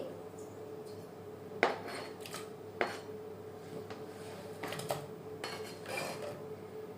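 Chopped tomato, two onions and green chillies are tipped into a pressure cooker, giving a few close metallic clanks and knocks of utensils against the pot over quiet background, no voices.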